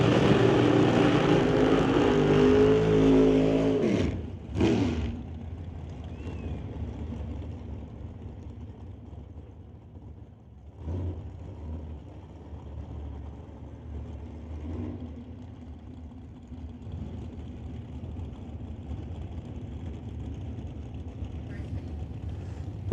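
Drag race cars run down the track at the West Coast Outlaw Shootout, with a loud engine roar at the launch that fades into a distant drone while an announcer keeps talking over it.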